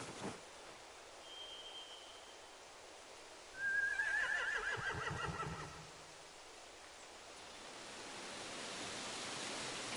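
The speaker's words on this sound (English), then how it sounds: "They have horses." In The Walking Dead video game, a single horse whinnies loudly partway through, a long wavering neigh over a quiet background hiss.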